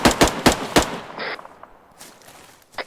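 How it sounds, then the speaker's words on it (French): Gunfire cracks out in a rapid burst of four loud, close shots, followed by a brief metallic ring and a couple of fainter distant reports in a tactical game setting. "J'ai entendu des tirs là."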